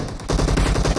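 Gunfire from a sliding headshot in PUBG Mobile, a loud burst of rapid shots that sets in sharply after a brief quieter moment and runs to the end.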